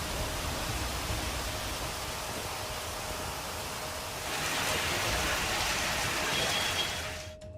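Heavy rain with hail in KR Puram, Bengaluru, pours as a dense, steady hiss that swells louder partway through, then drops off sharply at the end.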